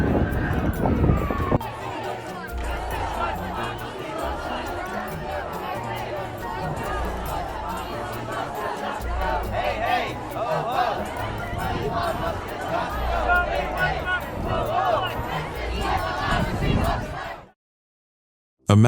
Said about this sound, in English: The crowd grew louder as more joined in, with some climbing onto ledges to raise their signs higher.